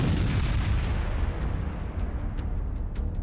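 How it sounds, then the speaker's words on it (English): Heavy artillery bombardment at the Battle of Plancenoit, a dense continuous roar of low booms and rumbling blasts with a few sharper high cracks layered over it, loud and unbroken. "The stalemate would be marked by 2 hours of heavy bombardment with neither side retreating."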